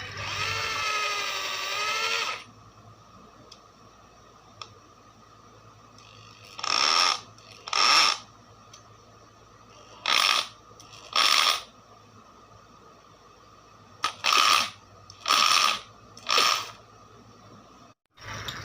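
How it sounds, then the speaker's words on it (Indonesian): JLD 13 mm impact drill switched to hammer mode, running in short loud bursts of a second or so, roughly seven of them spaced apart, with a quiet room hum between the bursts. "ada sejenis seperti suara pukulan hammer gitu ya"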